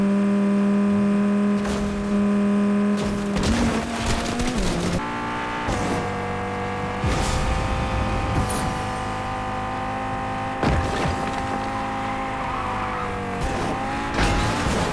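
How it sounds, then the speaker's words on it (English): The Revolver sports car in Fortnite revs and roars continuously, pitch rising and dropping through gear shifts, loud and close, with brief tire squeal. "the Revolver does sound noticeably sharper"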